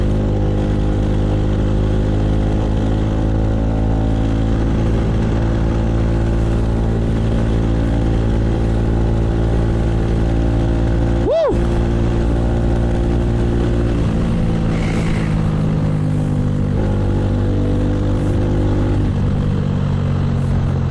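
A motorcycle cruising along a street, its steady engine drone running throughout with a brief pitch sweep near the middle, close and fairly loud, with no talking.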